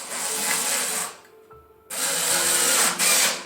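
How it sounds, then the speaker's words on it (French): Power screwdriver driving small screws into a wooden rabbit hay rack with litter tray, a loud whirring burst, a short pause, then two more whirring runs. "on peut visser jusqu'au bout"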